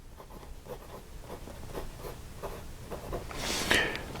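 A broad-nib Wing Sung 3003 fountain pen scratches across paper in a steady run of short, soft strokes, close and quiet, with a slightly louder scrape near the end.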